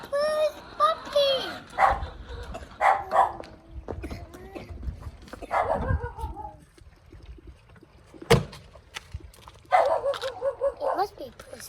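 A puppy gives several short, high yips and barks near the mic, scattered between people talking over a quiet outdoor background.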